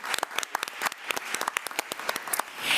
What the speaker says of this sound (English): let's give Mr. Ritter a round of applause